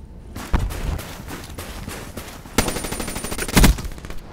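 Gunfire in the video game Black Ops 3: several sharp shots and bursts, with louder clusters near the start and toward the end over steady in-game background noise.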